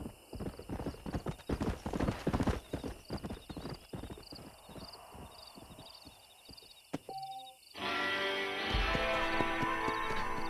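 Horse hooves clop in a rapid rhythmic gait in the video game Red Dead Redemption, then slow and fade, followed by a whinny and sustained ambient music.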